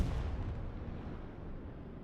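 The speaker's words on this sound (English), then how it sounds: "Steino is hucking a grenade. Tries to nade me." A grenade goes off in a multiplayer shooter, a deep booming blast at the very start that rumbles and fades through a long tail, with no voices.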